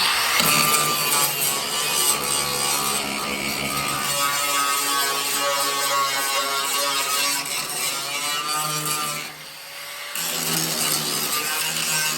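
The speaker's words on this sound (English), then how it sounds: "first I'm just gonna grind on this a little bit, see what it looks like here" An angle grinder works rusty sheet metal on the step-side bed of a 1956 pickup, a loud continuous high whine that drops out briefly near the end and then resumes.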